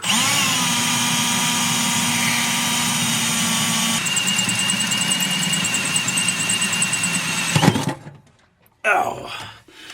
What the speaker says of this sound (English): we're going to use a hole saw